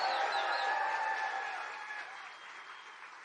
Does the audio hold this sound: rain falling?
no